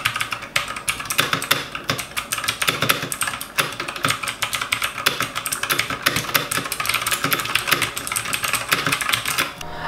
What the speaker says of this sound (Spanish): los pulsadores Outemu en su versión blue o azul, sí, la famosa de clicky, la que hace muchísimo ruido